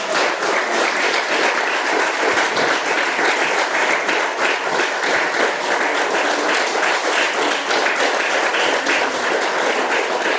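A church congregation on its feet applauds the Lord, dense steady clapping from many hands filling the room without a break, loud and even throughout.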